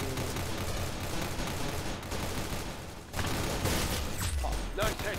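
Rapid gunfire in the Roblox-style shooter game Arsenal, a dense stream of shots landing a headshot, loud and continuous with a heavier burst near the end, under faint voice chatter.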